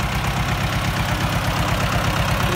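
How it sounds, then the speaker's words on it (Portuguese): Valmet 86 tractor fitted with a Marispan front loader, its diesel engine running steadily with a loud, continuous low throbbing rumble close by, no talking. "vou mostrar brevemente aqui, ó, um trator para vocês que a gente equipou com uma pazinha Marispan"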